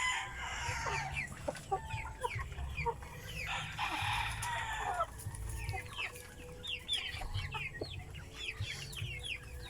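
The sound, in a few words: chickens clucking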